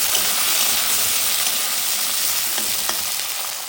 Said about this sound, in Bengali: তো আলুটা একটু লাল করে ভেজে নেব। এবার একটু নাড়াচাড়া করে নিচ্ছি ভালো মতো করে।